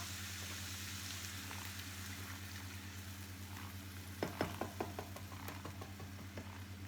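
A pot of vegetable curry with butternut squash and coconut milk simmers gently over lowered heat, a soft steady bubbling hiss with a low hum beneath and a few small clinks or pops toward the end.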